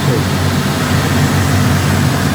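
A fast utility craft's engines in Singapore make a loud, steady drone with a deep low rumble, close and unbroken.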